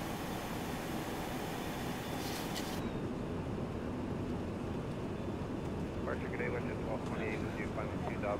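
A steady, loud engine drone and cabin rumble fill a small aircraft climbing toward 25,000 feet, a constant broadband roar with faint tonal whines, while pilot and air traffic control voices talk over it.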